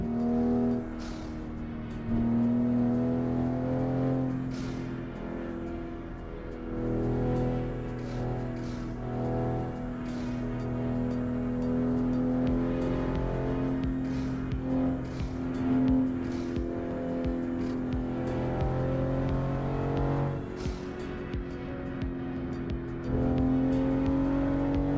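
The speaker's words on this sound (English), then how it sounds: "And in game, I'm playing with a Supra MK5" A Toyota Supra MK5 engine in a driving video game, a steady droning hum with pitch that rises and shifts as it revs and changes gear, continuous and fairly loud across the whole stretch, no talking.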